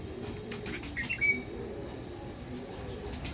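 A bird coos from a mango tree near a rooftop vegetable garden, a soft, distant call repeated a few times over steady outdoor background noise.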